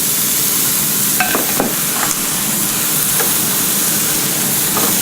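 Greek lamb kebabs sizzle in hot olive oil in a smoky pan, a loud, steady hiss filling the whole stretch with a few faint clinks on top.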